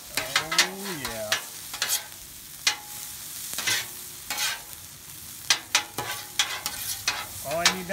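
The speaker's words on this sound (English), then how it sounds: "Enough butter. Bring the onions back into the mix." Onions stirred in a buttered frying pan, sizzling steadily with repeated sharp scrapes and clinks of a utensil against the pan, close and fairly loud, with no talk.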